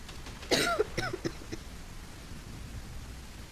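A couple of short coughs from a video game, fairly close and clear, followed by quiet background hiss.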